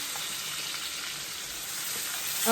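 Tuna steak sizzling in a hot pan, cooking short of well done, a loud, steady crackling fry throughout with no voice over it.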